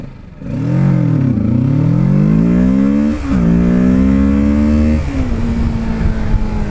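A 2024 Kawasaki Ninja 650 with traction control on accelerating hard through the gears, loud and close, its engine note rising in pitch with brief drops at each upshift.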